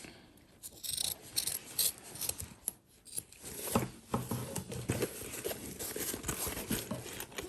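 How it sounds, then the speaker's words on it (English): Scissors snip and trim excess exterior fabric on a cross-body sling bag, giving close, crisp cuts with rustling cloth, in uneven bursts and with no talking. "I've got a little bit of excess exterior here, so I'm gonna trim that down"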